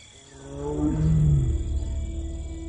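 A Bengal tiger in the wild Indian forest gives a deep, drawn-out roar that rises and swells over about a second and then tails off into a low rumble, loud and fairly close, with no voices.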